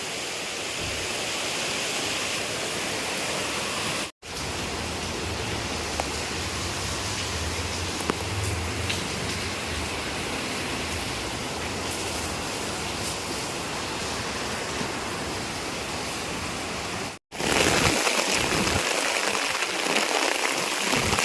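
Steady rain pours down during the rainy season as a broad, continuous wash of noise, broken by two brief cuts, with no voices over it.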